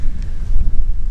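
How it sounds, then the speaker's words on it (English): Strong wind buffets a microphone outdoors beside a Mercedes T1 310D van during gearbox work, a loud, steady low rumble that rises and falls in gusts. "Windy."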